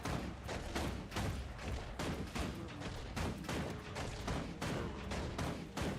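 Mechanist class in Guild Wars 2 firing a missile skill, heard as a dense run of repeated thumping, booming blasts of gunfire-like impacts, loud and continuous over six seconds.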